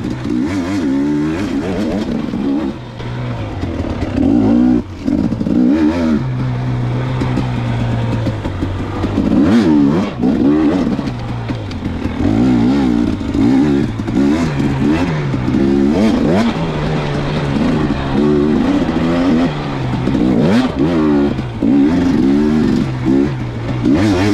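A 2019 KTM 250xc dirt bike engine roars loud and close without pause, its revs climbing and dropping again and again as the rider pushes through a lap.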